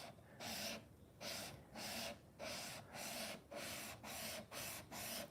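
A kanna plane blade is pushed forward again and again across a sharpening stone, giving about eight evenly spaced rasping strokes, each about half a second long with short quiet gaps, close and fairly soft.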